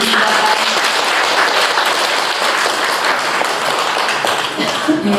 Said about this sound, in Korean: 목사님께 큰 박수 부탁드립니다.